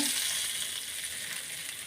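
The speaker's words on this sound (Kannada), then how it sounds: "ಚಟ್ನಿಗೆ ಒಗ್ಗರಣೆ ಕೊಟ್ಕೊಳ್ಳೋಣ" Steady, crackling sizzle of spices and curry leaves tempering in hot oil for a chutney, continuous and close, with no talking.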